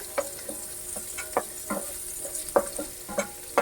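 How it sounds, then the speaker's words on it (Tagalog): Onions sautéing in butter in a pan give a steady soft sizzle, with a spatula stirring against the pan in several short, distinct scrapes. "maggisa na tayo ng sibuyas"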